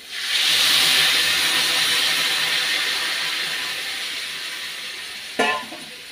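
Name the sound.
hot water added to a cooking vegetable curry, sizzling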